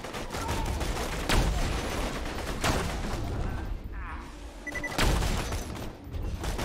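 Gunfire from a gun in the shooter game Borderlands 2: loud bursts of shots with sharp cracks around one, two and a half and five seconds over a dense busy game mix, with brief mechanical clatter between bursts.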